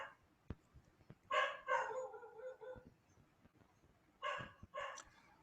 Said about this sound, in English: Barking of dog disturbing her?